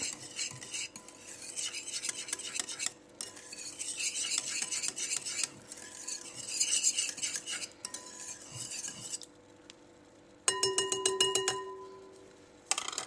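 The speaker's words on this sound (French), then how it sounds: "Donc là, je vais remuer." Curdling milk being stirred for cheese, rhythmic scraping and rubbing strokes of a utensil in a pot, pausing now and then, followed by a sharper metallic clinking near the end.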